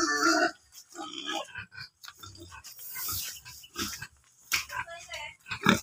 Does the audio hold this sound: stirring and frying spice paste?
no